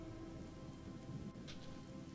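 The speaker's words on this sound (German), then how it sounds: "Oh, es regnet im Spiel." Steady rain pours in Gothic 2, a dense continuous hiss with a low rumble of thunder beneath and a brief brighter splash midway, no voices.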